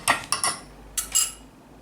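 Metal spoon clinking against a dish while salt, black pepper, red pepper and oregano are stirred into olive oil for a sardine casserole; five short scraping clinks in two quick clusters, close and alone.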